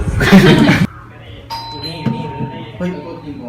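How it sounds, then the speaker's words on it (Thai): A doorbell chimes indoors, a single clear ding-dong tone ringing out after a burst of loud chatter, then fading while people talk quietly nearby. "ใครกดออดใครกดออดทุกคน ใครกดออดใครกดออดมีคนมา"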